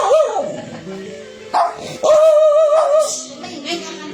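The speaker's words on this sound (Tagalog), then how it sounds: "Nagalit na yung aso." A dog barks and yips close by in a few short outbursts, with some whimpering tones mixed in.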